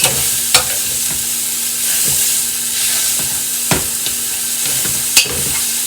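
Italian sausage frying in a pan, a loud close continuous sizzle with occasional sharp scrapes and knocks as a utensil breaks up the meat.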